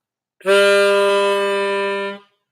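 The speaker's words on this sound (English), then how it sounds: "Sounded like a didgeridoo." One loud, sustained blown note holds steady for nearly two seconds, its rich, buzzy harmonic drone like a didgeridoo, then cuts off; it stands alone with no talk.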